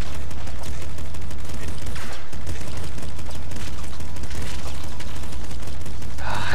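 Rapid machine gun fire from the video game Nuclear Throne rattles continuously and loudly, dense overlapping shots with a few heavier bursts and no talking.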